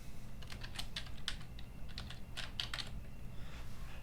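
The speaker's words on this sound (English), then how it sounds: "I'll type my name in again" A computer keyboard being typed on in quick irregular clusters of light clicks, close and fairly quiet over a low steady background hum.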